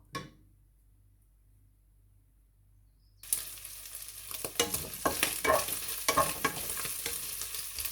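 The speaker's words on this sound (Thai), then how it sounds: "อันนี้เบคอนเราก็น้ำมันออกมาแล้วนะคะ คั่วใส่กระเทียมเลยค่ะมันมีน้ำมันละ ร้อนละ" Garlic stir-fried in hot rendered bacon fat for a Thai stir-fried stevia-leaf dish with oyster sauce: near-silence for three seconds, then a sudden loud sizzle with repeated scraping stir strokes, no talking.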